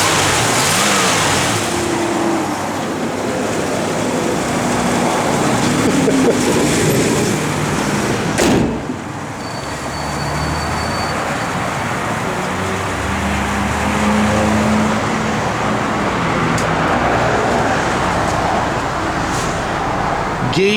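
A 1966 Plymouth Fury III engine runs continuously, a smooth steady mid-range hum with road-like rumble and one brief thump partway through, no voices over it.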